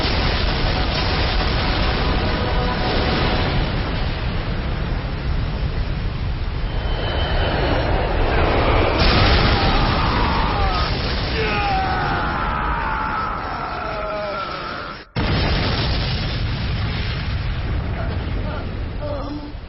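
Animated fire attack explosions in an action cartoon, a loud continuous roaring blast with rumbling bursts and whooshing sweeps, briefly cutting out before resuming at full force.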